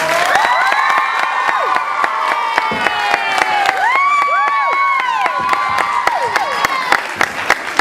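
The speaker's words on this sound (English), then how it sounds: "Let's have a big round of applause," Children and adults at a school eisteddfod at Gateway Academy clap steadily while high children's cheers and whoops rise and fall throughout, a loud, close crowd sound with no talk.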